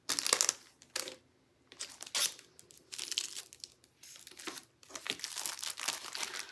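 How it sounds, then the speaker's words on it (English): Plastic packaging crinkles and tears as items from a holiday planner box are unwrapped, coming in close, busy bursts with short quiet pauses between them. "Probably should take the packaging off as well."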